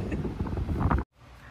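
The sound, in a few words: wind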